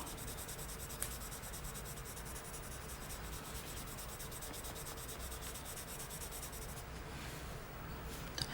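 Purple colored pencil rubs steadily across paper for coloring, a soft, continuous scratchy hiss heard up close and quiet throughout, with a faint tap near the start and the end.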